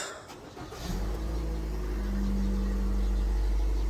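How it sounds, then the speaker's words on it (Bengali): A 2019 Toyota Noah G starts up with a short push-button crank, then its engine settles into a loud, close, steady running roar that builds slightly as it revs. "ইঞ্জিনের যে গর্জন সেটা কথা কয়"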